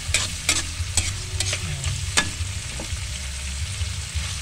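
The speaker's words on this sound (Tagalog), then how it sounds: "igigisa-gisa lang po natin yan" Vegetables for fried lumpia being sautéed in a pan, a steady low sizzle with repeated scrapes and clinks of a utensil stirring, close and fairly loud, no voices.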